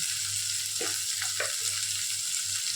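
Salted tomatoes fry in a pan for paneer gravy, a continuous close sizzle with a low hum beneath and a couple of short stirring scrapes midway.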